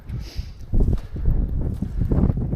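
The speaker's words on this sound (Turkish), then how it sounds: "aşırı bir rüzgar var. Bilmiyorum hissediyor musunuz sesler?" Strong, cold mountain wind buffets the microphone in a steady, rumbling roar with gusty surges, heard alone without any talking.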